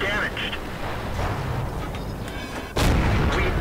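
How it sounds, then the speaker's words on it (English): Tank cannon shots from the World of Tanks video game, a British Comet Tier VII medium firing at an enemy turret: one heavy booming blast lands near the end, following a continuous rumbling battle bed with fainter distant thuds. "I can get a few shots off into his turret"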